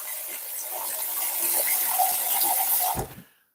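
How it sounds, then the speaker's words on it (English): Cold water gushes steadily from a kitchen tap for about three seconds, then cuts off abruptly with a brief clunk as the flow stops, with no voices present. "I'm gonna need some cold water now"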